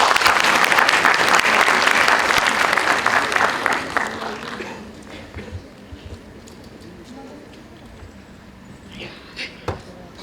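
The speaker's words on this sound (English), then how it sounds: "May we have a huge round of applause?" Audience applause at a dispute resolution and client counselling competition gathering, loud sustained clapping for about four seconds that then fades into scattered claps and quiet room noise with a few knocks.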